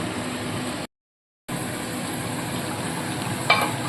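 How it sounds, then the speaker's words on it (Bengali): A covered pot of curry simmers close by with a dense, steady bubbling and sizzling hiss. It breaks off for a moment, then resumes unchanged and ends with a faint clink. "আবারও এক থেকে দু মিনিট ঢাকা চাপা দিয়ে ফুটিয়ে নেব"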